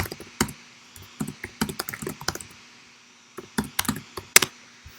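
Computer keyboard typing in a webinar, bursts of fairly close key clicks with short pauses in between, a quiet gap in the middle, then a final flurry of keystrokes.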